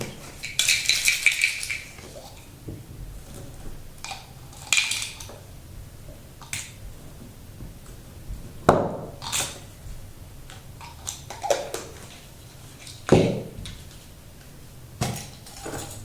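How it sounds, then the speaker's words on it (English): Bread ties rattled in a container, producing scattered shakes and clicky bursts with quiet gaps between them, close and fairly light. "Another container, and you add your ties and you have a different sound."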